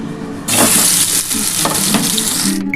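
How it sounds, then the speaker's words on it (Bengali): Potatoes dropped into hot oil for a mutton dak bungalow curry set off a sudden loud, hissing sizzle that holds steady and close, with no voices. "এবার এই আলুগুলো ভেজে নেবো"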